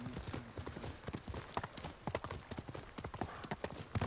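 Hooves clip-clop in a quick, steady rhythm, close and continuous, like a horse trotting along a hard surface, in Ghost of Tsushima.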